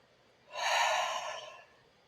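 A single slow, breathy exhale from one person during a forest therapy session, close and soft, swelling then tapering off over about a second.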